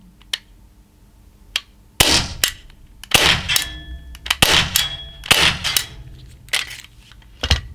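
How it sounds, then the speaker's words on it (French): Walther PPQ M2 and Q5 Match 4.5 mm air pistols firing with blowback, each shot a sharp snapping crack followed by the clack of the slide cycling, several shots in irregular succession, close and loud with no talking. "Je vais vous montrer le fonctionnement blowback du pistolet, enfin même des deux pistolets."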